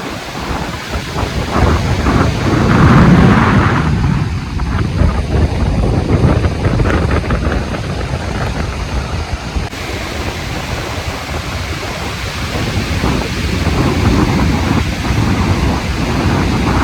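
Wind-driven lake waves break against rocks near a lighthouse at Headlands Beach State Park, Ohio, a continuous heavy roar and wash with strong wind rumble across the microphone.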